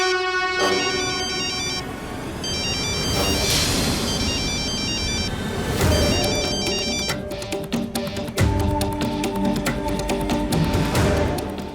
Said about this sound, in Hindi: उदय का फोन।